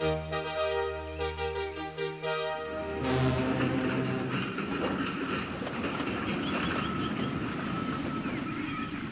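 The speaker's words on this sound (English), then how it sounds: "Boco, the new diesel engine, took his train to the big station." Train pulled by a diesel engine: a toy-like whistle tone at first gives way to a steady rumble of rolling cars with a rattling clatter, moderately loud and continuous.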